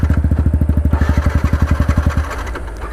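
A modified, wrapped Yamaha R15 v2 motorcycle engine runs close by, a fast, even chain of loud low thumps that smooths out into a higher, steadier note near the end.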